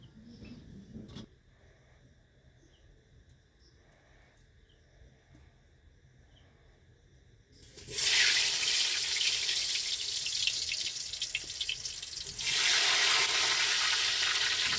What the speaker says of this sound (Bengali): কড়াইতে তেল দেওয়া হয়েছে এবার আলুটাকে ভেজে নেওয়া হবে